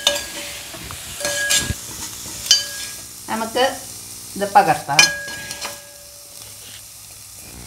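Pumpkin leaves stir-fried in a pan for thoran, with bursts of scraping and stirring over a soft, steady sizzle and a few clinks of utensils; a voice speaks briefly.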